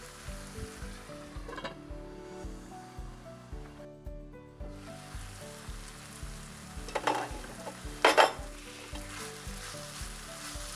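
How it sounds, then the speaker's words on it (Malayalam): Chicken frying on a low flame in a covered pan for chicken tikka crepes, a steady close sizzle with rhythmic bubbling pulses and a few brief louder crackles, no voices. "അപ്പോൾ ഞാൻ ഇവിടെ ലോ ഫ്ലെയിമിലാണ് ഇത് ഫ്രൈ ചെയ്തെടുക്കുന്നത്."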